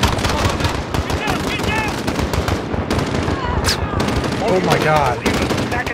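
Rapid automatic gunfire and explosions crackle without pause in the Modern Warfare video game, loud and dense, while a player briefly exclaims over the battle.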